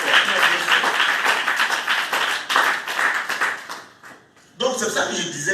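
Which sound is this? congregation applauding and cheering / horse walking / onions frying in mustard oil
congregation applauding and cheering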